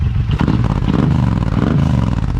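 A Suzuki M109R motorcycle with an aftermarket exhaust rumbling loudly and steadily at idle, with a deep, throaty exhaust tone that stays constant throughout.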